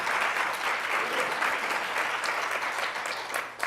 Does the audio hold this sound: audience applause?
yes